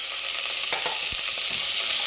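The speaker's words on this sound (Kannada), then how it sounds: "ಈಗ ಎಣ್ಣೆ ಬಿಸಿ ಆಗೈತೆ, ಅದಕ್ಕೆ ಮಸಾಲೆ ಪದಾರ್ಥಗಳೇನೋ ತಗೊಂಡಿದ್ರಲ್ಲ ಅದೆಲ್ಲ ಬಿಸಿ ಎಣ್ಣೆಗೆ ಹಾಕ್ಕೊಂಡು" Spices frying in hot oil on a village kitchen stove, a dense continuous sizzle with a few faint spatula knocks, close and steady throughout, no talking.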